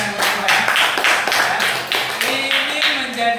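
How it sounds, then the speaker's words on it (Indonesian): A classroom group claps for the second team, a short burst of brisk, fairly rhythmic hand claps, loud and close, with a voice faintly underneath. "Sekali lagi berikan tepuk tangan."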